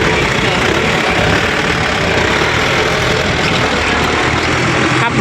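A Ford vehicle's engine runs steadily at a site where a fish pond is being dug, a loud, close, constant rumbling drone that holds unchanged for the whole five seconds.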